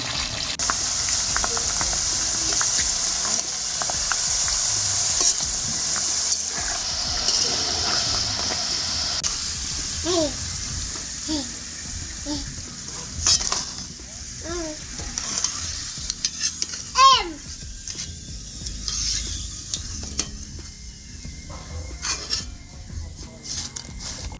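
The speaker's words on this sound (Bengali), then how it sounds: "সবগুলো চিপস ভাজা হয়ে গেছে।" Continuous sizzling of potato chips frying in hot oil, with occasional clinks and scrapes from a utensil against the pan.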